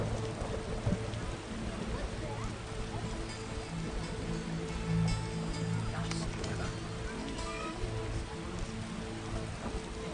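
Heavy rain falls over the Temple Quarter of Vizima in The Witcher, a dense, even wash of drops with a low ambient drone and a few sharper splashes near the middle.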